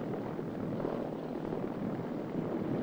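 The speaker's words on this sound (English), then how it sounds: "As power is transferred from the compressors to the fixed pitch propeller, the aircraft proceeds into autogyro flight." McDonnell XV-1 convertiplane in autogyro flight, power shifted from its tip-jet compressors to the fixed-pitch propeller, producing a steady, loud, dense engine and rotor drone with no breaks.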